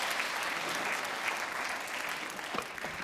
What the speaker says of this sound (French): On applaudit le jeune homme très fort également.